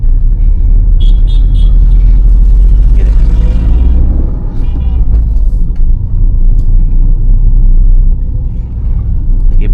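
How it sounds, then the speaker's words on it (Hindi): A car climbs a very steep slope in first gear on a narrow city road, its engine a loud, continuous low rumble that strains steadily upward, with faint occasional talk and clicks above it. "अब देखिए फर्स्ट गियर में यहाँ पे गाड़ी को उठाऊंगा"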